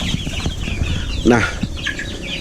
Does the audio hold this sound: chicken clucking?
yes